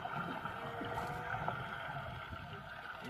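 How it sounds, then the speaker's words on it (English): Tour boat engine off Kaua'i, a steady low drone mixed with water wash and wind, continuous and moderately loud with no speech. "We're starting to pick up the engine sound from this boat right there."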